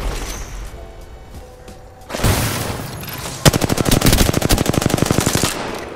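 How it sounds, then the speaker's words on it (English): Automatic gunfire in Apex Legends Season 5 on Xbox: a rapid, loud burst of repeated shots in the second half, preceded by a heavy thump and rumbling game ambience. "I'm shooting you."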